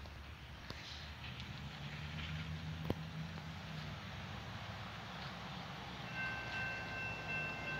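A westbound freight train, 21M, led by an SD70 locomotive, rumbles low and steady from a distance, faint throughout, with thin tonal notes creeping in near the end.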